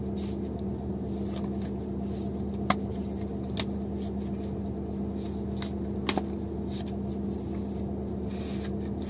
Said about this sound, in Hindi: knocking out the old energy and shuffling the cards